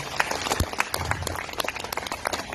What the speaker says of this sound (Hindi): एक बार जोरदार अपने लिए तालियां बजाएगा